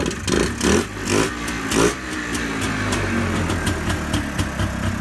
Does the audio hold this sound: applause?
no